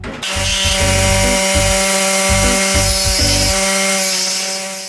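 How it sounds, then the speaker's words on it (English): A power cutting tool slicing through the old metal floor of a 1963 VW Double Cab, a loud, close, continuous whining drone with pulsing rhythmic chatter as the blade bites, steady throughout before easing slightly at the end. "I'm going to just slowly start to cut out the entire floor"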